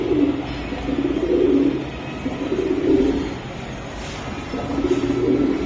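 A pair of pigeons coo in repeated low, rolling phrases, with about four swelling bursts over several seconds, close and steady. No voices are heard.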